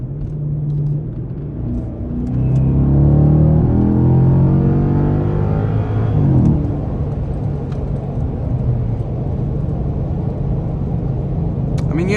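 A 4.6-litre Hyundai Genesis sedan accelerates hard from 40 to 60 mph after a downshift. The engine note climbs steadily for several seconds and then settles into a steady road rumble.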